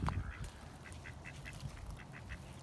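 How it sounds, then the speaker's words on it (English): Baby ducks splash in muddy water and quack softly in a quick run of small calls, faint and at a short distance outdoors. "Look at these baby duckies."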